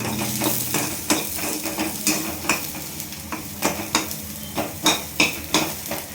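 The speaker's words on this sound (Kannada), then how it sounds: "ಇದಕ್ಕೆ ಒಂದು ಸ್ವಲ್ಪ ಅಷ್ಟು ಎಣ್ಣೆ ಹಾಕಿ ಇವೆರಡು ಈಗ ಹುರ್ಕೋಬೇಕು." Onion and garlic frying in a little oil while being stirred, with a steady sizzle under repeated scraping and clinking of a utensil against the pan.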